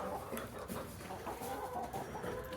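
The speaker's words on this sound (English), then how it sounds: "This rooster is a breed called Silver Lace Sussex" Chickens cluck in a barn alongside a Silver Lace Sussex rooster, a steady stream of overlapping clucks and short calls from several birds close by, with no talk.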